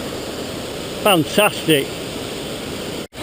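Loud, steady rushing roar of a waterfall in a gorge, with a person briefly speaking over the broadband wash.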